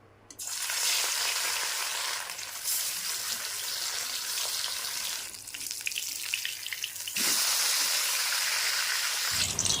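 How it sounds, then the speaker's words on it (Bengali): Loud, steady sizzling of pieces of fish frying in well-heated oil, with a brief quieter dip in the middle before the crackle surges back. "মাছ ভাজবো তো সেই জন্য তেল খুব ভালোভাবে গরম করে নিয়েছি এবারে মাছগুলি দিয়ে ভেজে নেবো"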